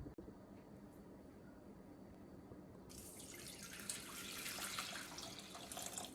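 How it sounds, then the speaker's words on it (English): Water runs steadily from a tap into a pot, a broad hissing splash that swells louder partway through and keeps going without talk. "Here I will add my water."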